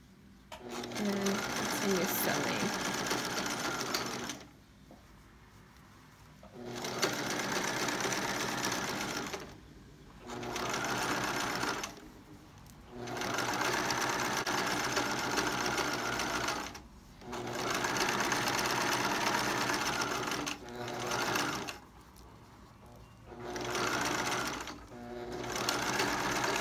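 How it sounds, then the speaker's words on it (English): A sewing machine stitching a fabric-scrap rope rug runs in repeated bursts of steady whirring, pausing briefly between each, with someone talking over and between the runs. "And we tuck it in, bring it up, and continue sewing."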